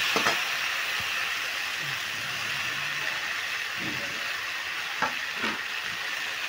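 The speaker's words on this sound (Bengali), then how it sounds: "এবার উচ্ছে আর কুমড়ো একসঙ্গে আমি ভালো করে মিশিয়ে নিচ্ছি" Bitter gourd and pumpkin stirred together in a frying pan, a steady sizzle running throughout with a few soft scraping strokes from the spatula, no talking.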